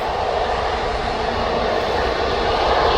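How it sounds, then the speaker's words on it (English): A TUI aircraft arriving at Birmingham Airport, its engines producing a steady, broad roar that holds loud and constant throughout. "Right, we've got that TUI aircraft now coming"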